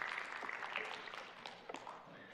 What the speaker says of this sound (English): They're applauding you.